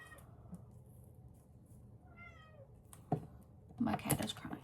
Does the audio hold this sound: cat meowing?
yes